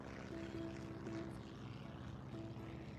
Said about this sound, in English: I'm letting the airplanes go past.